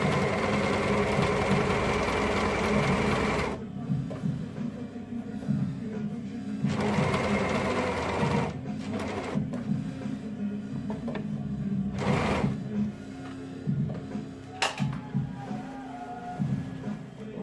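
A sewing machine runs a zigzag stitch along a cut fabric edge for a long dress, in loud, steady bursts separated by short pauses and quieter handling noises.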